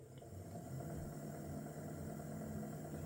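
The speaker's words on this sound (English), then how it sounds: "I'm going to try to turn it on and see if my phone's microphone will actually pick up the bumping sound." A UREVO SP1 Lite treadmill running at its lowest speed with a thumping fault, heard as a steady low motor hum with a faint rhythmic bumping underneath, recorded on a phone with no talk.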